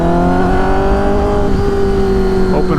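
Loud, steady engine drone with rising revs from a sport motorcycle on a morning canyon group ride, the whine climbing near the end.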